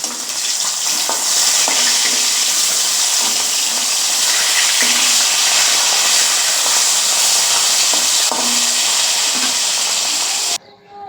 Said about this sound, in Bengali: তো আমি এখন মাছটা ভেজে নেবো চলো